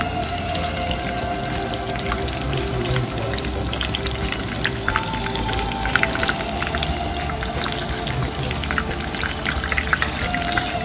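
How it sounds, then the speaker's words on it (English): Oil sizzles and crackles steadily, a dense bubbling hiss of seafood fritters frying in a pan, with no one speaking. "So I'm heating the oil for frying it."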